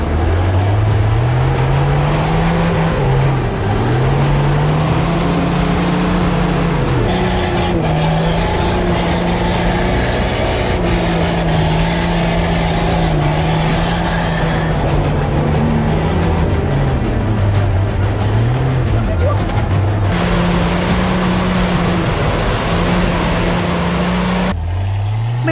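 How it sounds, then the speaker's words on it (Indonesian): An off-road car struggles on a slick, rain-soaked muddy dirt road in a remote Indonesian village, its engine droning loudly and continuously, rising and falling in pitch as the tyres slip, with no talking. "membuat ban mobil off-road sering slip dan terpleset di antara lumpur"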